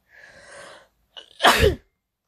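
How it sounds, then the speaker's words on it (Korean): A single sharp, loud sneeze sounds alone, preceded by a quieter breathy intake, then silence. "재채기를 자꾸 하네."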